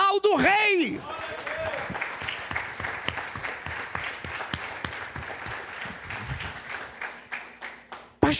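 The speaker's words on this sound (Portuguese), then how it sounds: "Aplauda o Rei." A church congregation at a Sunday service bursts into sustained applause after a short spoken call. The clapping is loud and dense at first, then tapers off into scattered claps.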